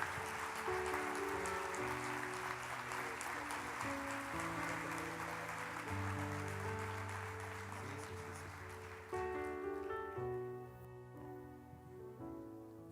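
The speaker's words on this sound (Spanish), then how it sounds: "Le damos un aplauso a Jenny" A church congregation claps for a woman named Jenny over sustained keyboard chords; the clapping thins out toward the end as the music carries on.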